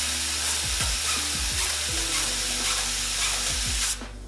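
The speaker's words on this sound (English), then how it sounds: "So you can see that the spray gun is spitting" A 100-year-old DeVilbiss spray gun sputters and spits as air bubbles come through, a steady close hiss broken by irregular popping spurts that stop abruptly at the end.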